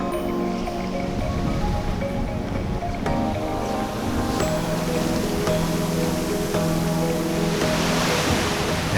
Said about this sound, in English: taking in the sights, the natural ocean sounds